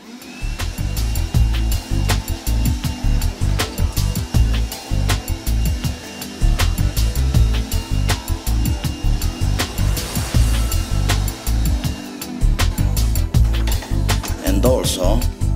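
A small handheld rechargeable vacuum cleaner, converted to Li-Ion batteries, whirs loudly and steadily, its motor pitch wavering with bumps and clatter, close up with no voices.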